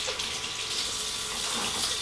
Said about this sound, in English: I apologize for the water running in the room.